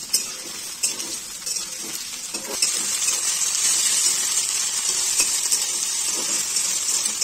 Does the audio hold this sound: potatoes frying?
yes